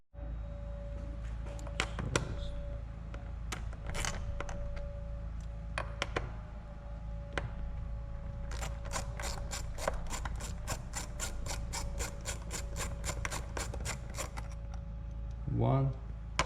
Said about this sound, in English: So I'm gonna get my ratchet right here and just remove these two